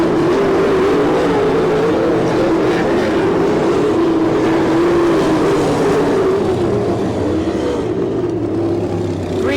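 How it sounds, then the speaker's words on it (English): Sprint cars in an All Star Circuit of Champions race at Lima, Ohio roar steadily into turn one, a loud continuous engine drone from several cars that shifts slightly in pitch as they pass, with no talk over it. "Car race for 5th, going into turn 1."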